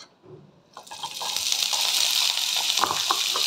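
Sliced onions hit hot oil with black cumin in a pan while cooking a pumpkin dish, a sudden loud hiss that settles into steady sizzling with small crackles.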